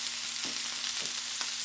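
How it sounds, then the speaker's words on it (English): Food stir frying in a pan until golden brown for a cream chicken and noodle vegetable soup, a steady close sizzle with a few soft stirring scrapes throughout. "just keep stir frying till you get this, till it comes to golden brown"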